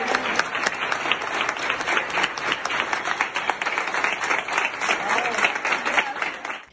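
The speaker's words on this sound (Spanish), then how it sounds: "El 3 de abril salió la primera persona recuperada entre aplausos y ovaciones en la ciudad de Cali" Applause and cheering in Cali as the first recovered COVID-19 patient leaves the hospital, dense sustained clapping with crowd voices mixed in throughout.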